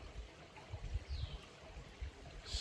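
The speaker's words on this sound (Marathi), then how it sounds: "शांत वातावरणात फक्त पाण्याचा आवाज." A flowing stream beside a quiet temple, a soft continuous burble and trickle of water heard from a short distance, fairly faint, with no talk.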